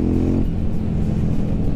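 A KTM Duke 790 motorcycle engine pulling steadily in fourth gear around 4000 rpm on the road, a loud, close, continuous droning growl with a brief pitch shift early on.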